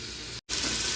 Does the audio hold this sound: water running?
yes